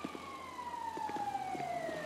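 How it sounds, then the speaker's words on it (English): A police siren in the video game GTA 5 (FiveM) wails steadily in the distance, its pitch slowly falling, over a low background rumble. "I hear sirens."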